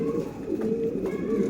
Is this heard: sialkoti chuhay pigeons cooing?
yes